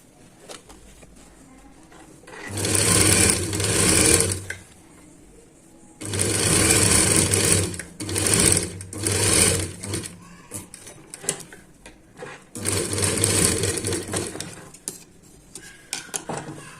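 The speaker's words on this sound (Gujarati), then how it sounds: "હવે જે આ ભાગ છે તે આપણે ધાર સિલાઈ કરવાની છે સાવ છેટી ઝીણી ધાર સિલાઈ કરવાની છે" Sewing machine running in three long bursts, edge-stitching a narrow seam along a shirt collar, loud and close with short pauses between runs and no talk.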